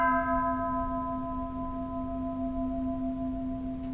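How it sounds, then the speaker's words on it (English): Japanese bronze Buddhist temple bell resonating after a strike, a sustained pure hum with clear overtones decaying slowly and evenly, close and loud, alone without talk. "That's a beautiful bell."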